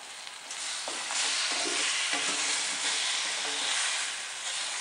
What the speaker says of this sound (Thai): ผัดพอเข้ากันผัดเบาๆอย่าผัดแรงนะคะไม่งั้นเนื้อปลาจะเละได้ค่ะ